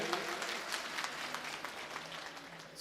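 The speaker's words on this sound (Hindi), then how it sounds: "एक बार दोनों हाथ में जोरदार तालियां मौलाना नवार साहब के लिए बजाइए" An audience at a poetry gathering claps for Maulana Nawar Sahab, with a fairly quiet, steady patter of hands that continues briefly at an even level.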